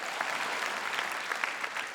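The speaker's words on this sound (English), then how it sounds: "Thank you for applauding." Dense, even applause from a theater crowd at Nick Offerman's comedy show, many hands clapping at a steady level with a few sharper claps standing out, sustained throughout.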